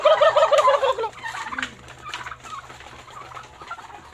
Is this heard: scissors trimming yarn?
no